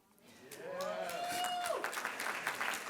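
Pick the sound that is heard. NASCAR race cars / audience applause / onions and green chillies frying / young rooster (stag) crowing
audience applause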